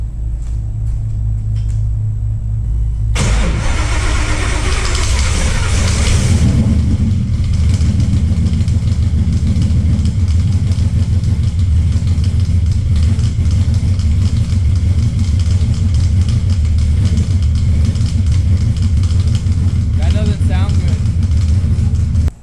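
A supercharged Ford Coyote V8 cranks and fires up after a few seconds, then settles into a loud, steady, rumbling run close by. A voice is heard over the engine noise.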